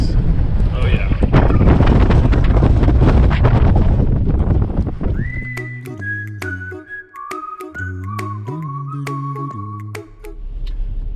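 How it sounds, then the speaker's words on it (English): Loud gusting wind in England buffets the microphone for the first half, then fades under tonal whistling notes and some low rumble. "So today is it's a little bit windy out today. It's really windy."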